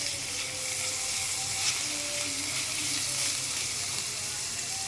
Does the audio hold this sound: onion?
yes